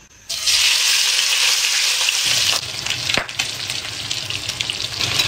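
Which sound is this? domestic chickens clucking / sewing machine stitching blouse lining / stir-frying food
stir-frying food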